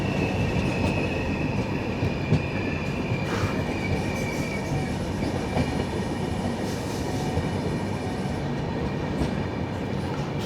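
The Trivandrum Veraval Express slows on its approach to Junagadh, rumbling loudly and continuously with clattering wheels on the rails, brief squeals of the wheels, and a broad steady roar from inside the moving train.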